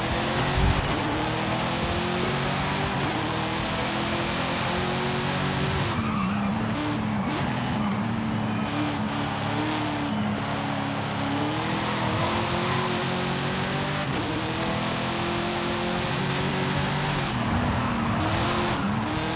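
A Mazda RX7 Spirit races in the video game Forza Horizon 5, its engine droning loud and steady throughout, with pitch rising and falling through gear changes and tire skids.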